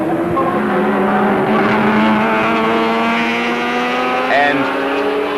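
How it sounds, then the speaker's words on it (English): Touring cars circle the Symmons Plains circuit in 1983, a loud sustained engine roar with shifting pitch as cars pass close by, rising and falling strands of exhaust note layered over constant track noise. "Moffat now up to lap the other Roadways car, and will Harrington make it easy?"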